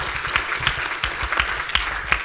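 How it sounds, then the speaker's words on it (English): An audience applauds a speaker at a Women in STEM leadership panel discussion, a steady burst of many hands clapping close and fairly loud for a couple of seconds. "Give him a round of applause"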